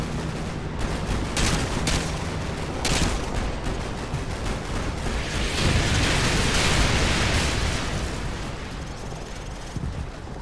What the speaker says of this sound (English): Artillery inbound. Confirmed. Firing.